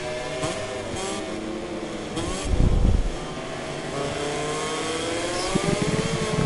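A car in a racing video game accelerates with rising engine revs, its pitch climbing and shifting through gears, with a heavier low burst partway through and a steady engine drone throughout.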